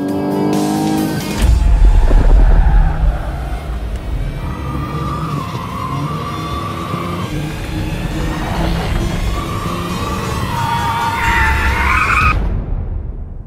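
BMW M240i drifting around a roundabout, tyres skidding and squealing continuously for about twelve seconds over a loud revving engine, building to a sharper squeal near the end before cutting off.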